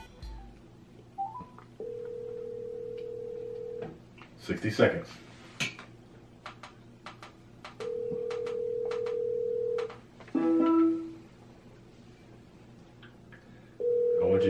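Telephone keypad tones and dialing on a prank phone call during a drinking game show, with steady tones repeating between bursts of people talking and laughing nearby.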